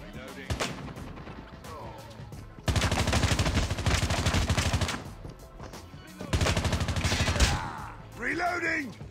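Bursts of rapid video game gunfire, loud and dense, come in two long volleys separated by quieter stretches, with a voice talking briefly near the end.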